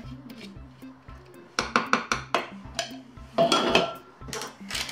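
A buttery, unsweetened cheesecake base mixture with vanilla is tipped into a baking dish, giving a run of sharp clinks and knocks of utensil against the dish over a low background.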